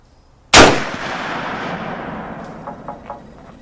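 A single sharp, loud .45-70 rifle shot is fired at a water jug, a sudden crack followed by a long, fading echo and a few faint knocks as it dies away.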